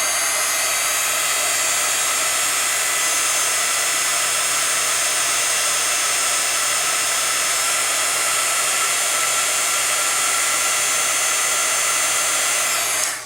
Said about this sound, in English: Take your heat gun, get it nice and hot, and melt the end.